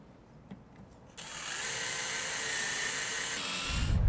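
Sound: screw driven into header with a power drill

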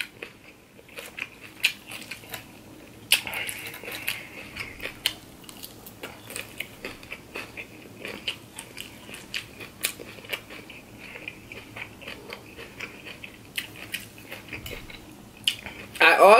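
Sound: eating shrimp salad, chewing

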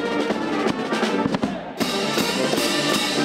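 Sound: A brass band playing music

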